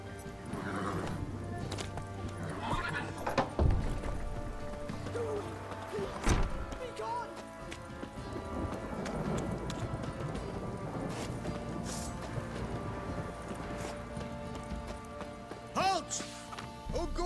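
Roach, the horse in The Witcher 3 video game on PS5, gallops with a brisk clip-clop of hooves and lets out a whinny, with game sounds and occasional voices around it.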